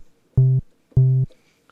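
Two sustained bass notes from a Donner B1 analog bass synthesizer sequencer, each lasting about a quarter second with a clear pause between them, played loud and dry with no other sound.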